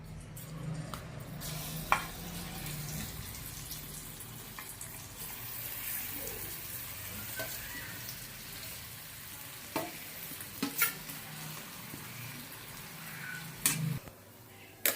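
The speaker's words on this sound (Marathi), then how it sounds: "या तुपावर आपण रताळ्याचा किस छान परतून घेऊया।" Grated sweet potato sizzles and crackles steadily in ghee while being stirred, with occasional spoon scrapes and clinks against the pan, close and continuous without speech.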